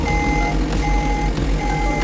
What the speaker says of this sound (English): Lift the toggle switch and pull it towards yourself gently. Begins to beep.